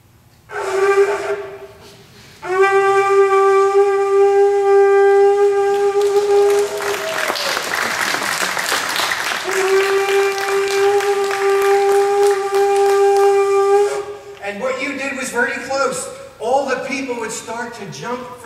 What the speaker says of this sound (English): someone would sound the great sound of the shofar to let everybody know that the sacrifice was finished